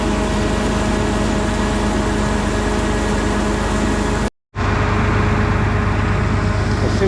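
Truck engine running steadily while sow feed loads into a bin, a loud continuous low rumble with a brief drop to silence partway through.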